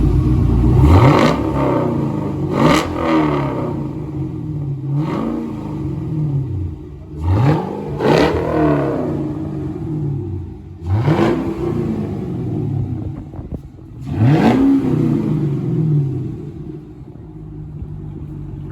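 A Cadillac CTS-V with its muffler deleted revs repeatedly, about six loud, close throttle blips that rise and fall sharply, settling into a deep rumbling idle between them.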